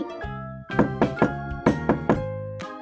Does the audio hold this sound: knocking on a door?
yes